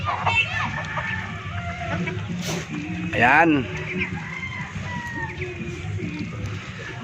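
Backyard chickens and ducks at feeding time cluck and chatter over a steady rustle, with one louder squawk partway through, while someone talks over them.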